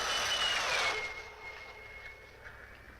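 Jet fighter aircraft from a 1957 film passing overhead, a loud whooshing roar with a falling whine that fades away over a few seconds, with no talking.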